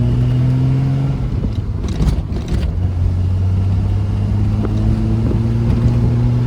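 A 1973 Triumph TR6 engine pulls loudly and steadily from inside the car, its low drone rising in pitch as it accelerates, with brief shifts in tone around the midpoint and no talk.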